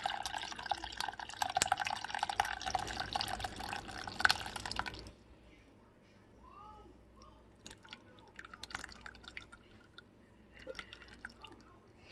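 Elderberry syrup mixture with berries pours and trickles for a few seconds, then gives way to quieter, intermittent drips and soft wet sounds as it strains through.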